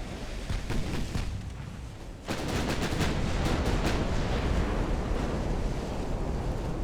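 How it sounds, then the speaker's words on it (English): Naval gunfire in Ultimate Admiral: Dreadnoughts, with a deep booming salvo that breaks over steady sea and wind noise. Heavy rumbling reports follow one another at a distance. "Gun sounds are still really good on this game"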